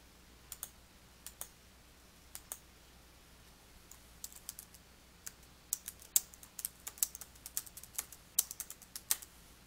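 Quiet, close keystrokes on a computer keyboard come in irregular bursts, sparse at first and then quicker and denser toward the end, with soft single clicks over a faint room hum.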